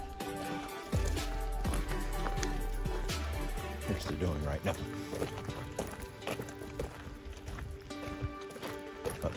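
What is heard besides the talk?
donkey hooves walking toward a gate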